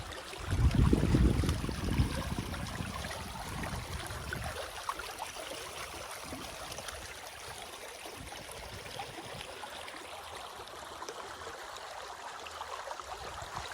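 Water flows steadily through a beaver dam beside wet, waterlogged fields, a continuous close rushing and trickling that opens with a louder low rumble in the first few seconds, then settles into an even wash.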